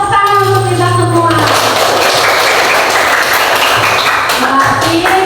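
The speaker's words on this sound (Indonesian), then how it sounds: "Tepuk tangan untuk kita semua." A classroom of schoolchildren claps loudly and steadily for about five seconds, a dense crackle of many hands, while a teacher's voice sustains and shifts over the top.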